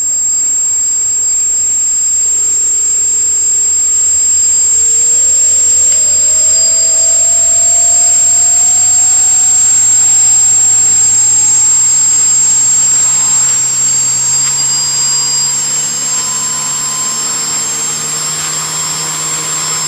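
Small motor on a DIY PIC18 RC flight controller, run at 400Hz, whines loud and close, its pitch rising steadily as the throttle increases, over a constant high electronic tone.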